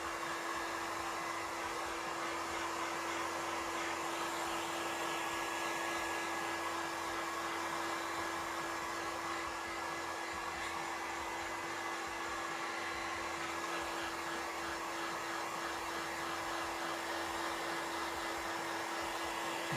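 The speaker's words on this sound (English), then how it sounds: "a heat gun." A heat gun blows hot air to dry a lizard-feet sculpture, running as a steady, close whirring hum without pause and with no voices.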